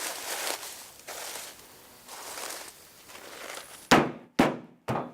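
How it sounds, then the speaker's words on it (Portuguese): Dried Savoy cabbage seed pods are beaten on a plastic tarp or heavy cloth to free the seeds. Soft rustling swishes come in a loose rhythm, followed by three sharp, close thwacks near the end. "espalhamos as sílicas em uma lona de plástico ou um tecido grosso, para depois bater ou esfregar com as mãos"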